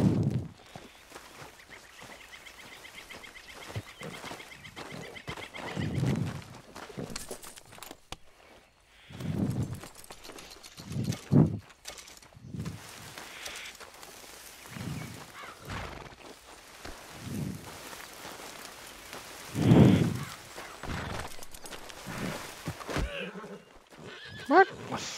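Horses in Red Dead Redemption 2 whinny and neigh several times over scattered hoof clops, the calls loud and close, with sparse bird sounds in the background.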